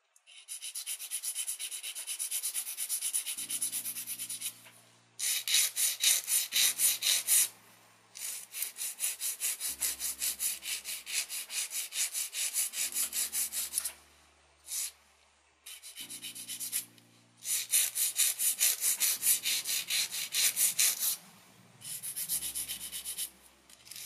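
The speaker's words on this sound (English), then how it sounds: "I think it gives me plenty of room to shape them with my file" A nail file rasps back and forth while shaping sculpted acrylic stiletto nails: fast rhythmic strokes in runs of several seconds, broken by brief pauses, close and clear.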